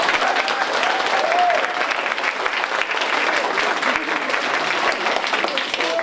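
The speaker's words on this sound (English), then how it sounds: "would you mind terribly just giving me a little round of applause?" An audience at a school creative arts evening gives a round of applause, dense and even clapping from many hands filling the whole stretch at steady volume.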